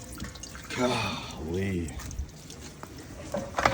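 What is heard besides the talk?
water spraying from burst hose on a sewer jetter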